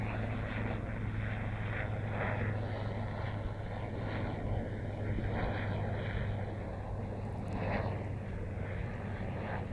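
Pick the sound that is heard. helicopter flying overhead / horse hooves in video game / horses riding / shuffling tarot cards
helicopter flying overhead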